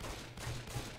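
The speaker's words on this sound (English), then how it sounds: "Stop shooting the streamer!" Rapid bursts of gunfire from the Left 4 Dead 2 video game crackle densely for about a second, loud and continuous, with no voices.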